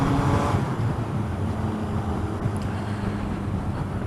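Suzuki GS1000 motorcycle engine on a test run, a steady low rumble of the motor, heard at moderate distance with road noise and no clear revving peaks.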